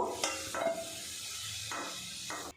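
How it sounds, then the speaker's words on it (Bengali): Potato pieces fry in oil, being turned over now and then, with a soft constant sizzle broken by a few scraping stirs and light clatters of the pan, heard close and fairly quiet. "আলুটা কিন্তু উল্টে পাল্টে বেশ কিছুক্ষণ ভাজা করে নেব"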